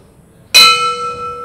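At a boxing match, the bell for the start of the fourth round gives a single loud, bright clang that rings on with a clear sustained tone after a moment of near silence.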